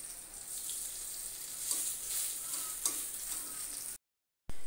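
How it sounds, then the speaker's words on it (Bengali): Thankuni leaf fritters coated with rice flour fry crisp in oil in a wok, a steady close sizzle with occasional crackles, then a brief silence and a renewed burst of sizzling. "বেশ মসমস করে আমি ভেজে নেব"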